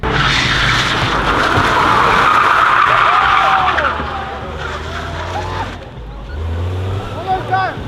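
A Toyota Corolla drifting at a street racing gathering, tires skidding and squealing loudly over a roaring engine, with revs dipping and surging while a crowd noise fills the background.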